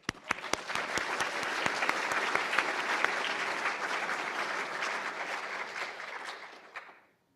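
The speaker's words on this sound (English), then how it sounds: "So let's give a round of applause." An awards ceremony audience gives a sustained burst of dense applause with sharp individual claps, holding steady for several seconds before fading out abruptly.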